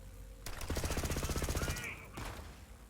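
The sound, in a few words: legendary pistol firing in video game Borderlands 3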